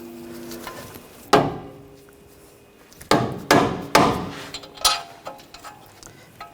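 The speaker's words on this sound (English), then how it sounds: "just give it a little tap with the rubber mallet" Rubber mallet tapping a bolt into the lower ball joint during front strut and spring replacement on a 2014-2020 Nissan Rogue: several sharp, nearby knocks in an irregular run, one isolated strike followed by a cluster of four or five.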